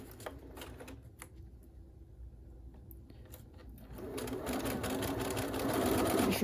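Sewing machine stitching a seam on a medical face mask, with a few short bursts and pauses early on, then a steady, louder run of rapid needle chatter building toward the end, close-up and without talking.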